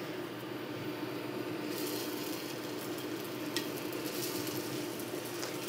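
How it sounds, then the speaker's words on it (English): Meatballs for Swedish meatballs frying over high heat in a pan with a small amount of oil, a steady close hiss and crackle of sizzling that continues throughout, with no talk. "We're gonna hear that sizzle,"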